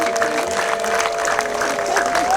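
Wedding guests clap steadily throughout a celebration, a dense, continuous patter of applause with a sustained musical tone or voices running underneath.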